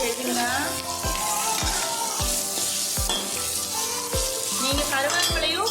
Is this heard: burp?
no